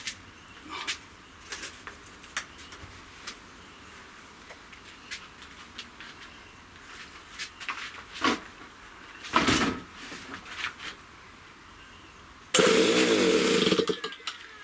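A hand-held electric starter cranks an RCGF 15cc Stinger petrol model engine, after scattered quiet handling clicks, in a loud whirring burst lasting about two seconds near the end.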